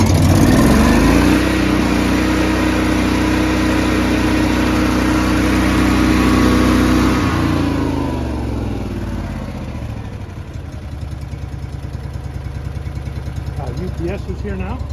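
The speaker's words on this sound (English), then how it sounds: "I'm going to do one more start, and then we're going to move on to natural gas" A Honda EB 11000 generator running on propane gives a loud, steady mid-low engine drone that holds for about eight seconds, then settles to a quieter idle hum through the rest.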